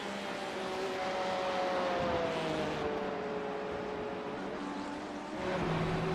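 Race car engines in a GTE-class sim racing game drone continuously with shifting pitch, several cars blending into a steady loud whine with gear changes near the end; no talk.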